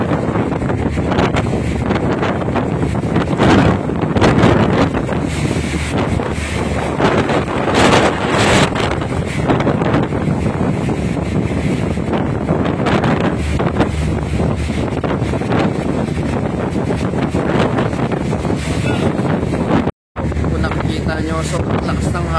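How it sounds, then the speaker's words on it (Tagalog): Strong typhoon wind buffeting the microphone outdoors, a loud continuous roaring rush with gusty surges throughout, broken by one brief dropout, and a person speaking at times beneath it. "As you can see, the wind is so windy po, so windy."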